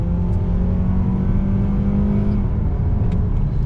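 A 2020 Mazda CX-30's naturally aspirated engine drones loudly under full throttle, a steady dense roar with a slowly rising pitch, heard from inside the cabin.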